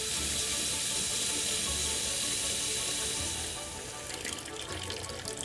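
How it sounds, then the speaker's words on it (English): Tap water runs steadily into a bowl in a kitchen as a constant loud hiss and splash, then eases to a thinner, spattering trickle near the end. "we want the water to continue to run"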